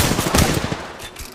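Rapid automatic gunfire from the video game Apex Legends, a dense burst of close, loud shots in quick succession lasting over a second with no talk over it.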